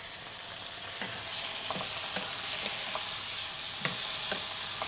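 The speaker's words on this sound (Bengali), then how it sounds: "পেঁয়াজের সাথে আমরা বিফটাকে সতে করছি" Boneless beef sautéing with browned onions in mustard oil, a steady soft sizzle broken by several sharp stirring scrapes and clinks, with no talking.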